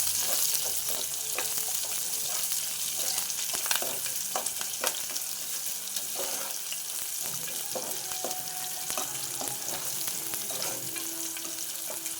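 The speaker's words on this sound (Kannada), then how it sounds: "ಇದು ಚೆನ್ನಾಗಿ ಫ್ರೈ ಆಗಲಿ." Garlic, curry leaves and onion frying in a pan give a constant dense crackling sizzle, with occasional light stirring clicks, close and steady with no voices.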